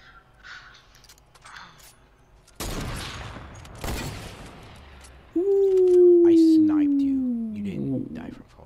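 Two loud, crackling sniper-rifle shots go off about a second apart in Fortnite, followed by a rising whistle-like tone and voices talking over the game noise.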